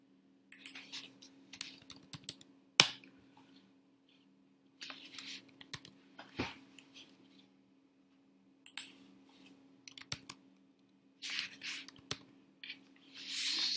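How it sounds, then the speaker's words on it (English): Someone types a command on a computer keyboard, with bursts of quiet close key clicks and a few louder taps separated by pauses, over a faint steady hum and no speech. "just type this command on your computer, localhost"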